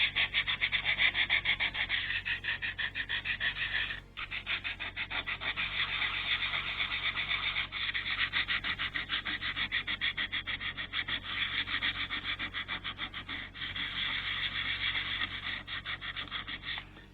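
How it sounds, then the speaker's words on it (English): Steady rough scraping and rubbing of loose rust off the metal of an Atari Jaguar console, continuous with a brief pause partway through, close and fairly quiet with no voices. "I'm going to knock off the loose rust on the top of it."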